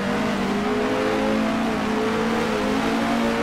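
A 1966 race car engine in Grand Prix Legends downshifts to first gear at the paddock bend, a loud, steady, buzzing engine drone with shifting harmonic tones, close and continuous throughout.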